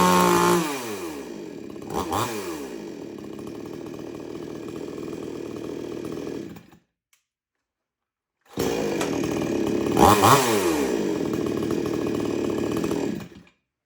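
Two 20-inch chainsaws run one after the other, a Husqvarna 450 and a 2002 Salem Master Pro, each loud and close, revving up and down over a steady engine drone, with a short silence between them.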